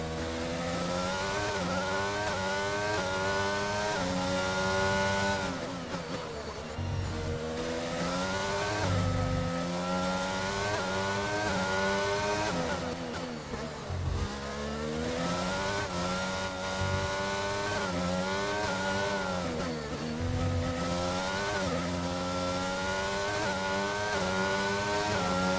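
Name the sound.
Aston Martin car engine racing in a video game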